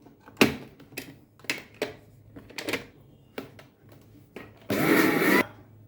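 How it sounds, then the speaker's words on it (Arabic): A short blender burst whirs loudly near the end as it mixes mayonnaise ingredients, preceded by several sharp clatters and knocks of kitchen utensils. "هضربهم مع بعض في الخلاط."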